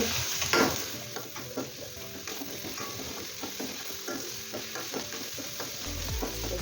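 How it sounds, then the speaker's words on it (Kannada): Finely chopped beans fry in a pan for millet pasta, giving a steady crackling sizzle with repeated light stirring scrapes, close and moderately loud, with no speech. "ಬೀನ್ಸ್ ಕಟ್ ಮಾಡ್ಕೊಂಡಿದ್ದೆ ನಾನು ಸಣ್ಣ ಸಣ್ಣದಾಗಿ ಫ್ರೈ ಆಗಬೇಕು"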